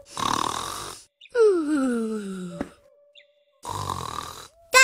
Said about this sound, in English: Sounds like snoring.